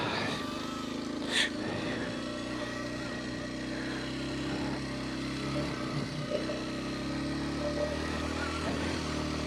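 A Kawasaki KLX230 motorcycle engine hums steadily while riding, a continuous mid-level drone with a small buzzing drone also present, and the rider talks intermittently.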